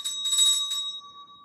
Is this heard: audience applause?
no